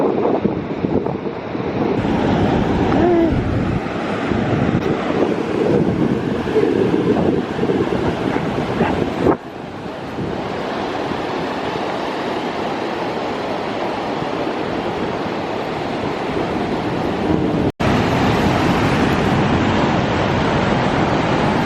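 Ocean surf rolls and breaks on an empty beach in a steady broad wash, with heavy wind buffeting the microphone throughout and a brief dropout partway.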